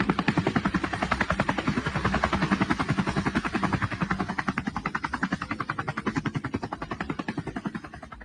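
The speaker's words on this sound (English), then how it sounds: "filmed from a helicopter flying over Colorado" A helicopter flies over Colorado, its rotor thumping in a loud, fast, steady chop close by, the rhythmic beating holding throughout and fading slightly toward the end.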